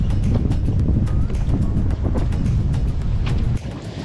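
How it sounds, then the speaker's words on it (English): Strong wind buffets a boat at anchor off Hirifa, Fakarava during a maramu, a loud continuous roar with gusty rumbling close to the mic. "It is rough out here. Brown is out swimming in this. A lot of wind."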